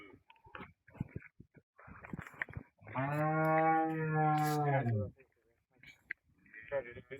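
A dairy cow on a farm gives one long, loud, drawn-out moo lasting about two seconds, set between stretches of someone talking nearby.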